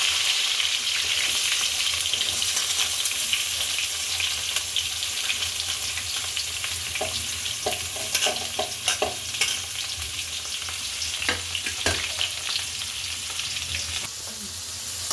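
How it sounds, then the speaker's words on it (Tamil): Onions with mustard seeds and curry leaves fry in a pan for a chicken gravy, a constant soft sizzle underneath while a spoon scrapes and stirs in irregular clicks and knocks through the second half. "வெங்காயத்தை வதக்கிடலாம்ப்பா"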